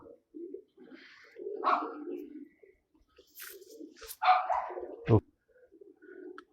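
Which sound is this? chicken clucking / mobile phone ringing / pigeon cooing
pigeon cooing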